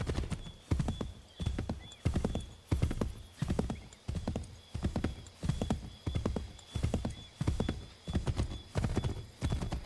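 Horse galloping in the video game Assassin's Creed III, with rhythmic, evenly spaced hoofbeats repeating in clear bursts throughout. The hoofbeats are loud and close, and an occasional whinny is heard.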